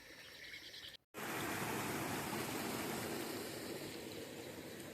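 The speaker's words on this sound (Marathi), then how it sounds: "हे बघा इकडून असंच पाणी वाहते." Floodwater pours across a farm road beside waterlogged fields in a continuous broad rush. A brief drop-out comes early, then the flow returns louder, with faint bird and insect chirps in the background.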